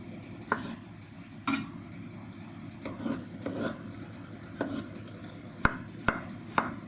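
A knife roughly cutting soft roasted eggplant for baba ganoush makes scattered light taps and clicks on a board amid faint kitchen clatter, close and fairly quiet, with no talking.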